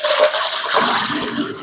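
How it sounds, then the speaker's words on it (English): Boiled potatoes and their water dumped into a kitchen strainer, a loud continuous rushing splash that lasts under two seconds and is heard alone without talk. "About to go ahead and dump our potatoes in."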